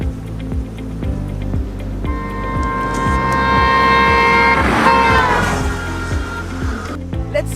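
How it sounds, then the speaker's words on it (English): A car's horn sounds in a long, steady blast over the rumble of its engine as it drives past, growing louder and then dropping in pitch as it goes by. "I will record how the horn of the car sounds while moving in that direction"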